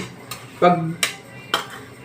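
Sharp metallic clanks ring out at a steady pace, a knife chopping bagoong on a thin tin plate, with a brief clattering scrape between hits.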